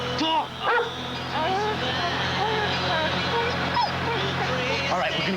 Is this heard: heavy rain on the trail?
no